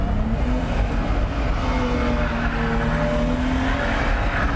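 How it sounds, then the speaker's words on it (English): A car engine drones loud and steady at high revs as the rear wheels spin while it circles a drum doing donuts, a continuous close roar with faint tonal whines. "What I'm gonna do is rev the engine, dump the clutch, get the rear wheel spinning"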